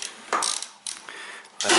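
A ratchet wrench loosening a bolt on a front-wheel-drive car during a clutch job, with quick bursts of close, loud metallic clicking in three separate pulls.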